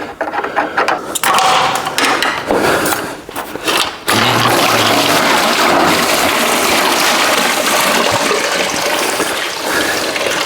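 Coolant pours from the pulled bottom radiator hose of a 1970 El Camino into a drain pan, a loud, steady splashing rush that starts abruptly partway through and keeps going close by.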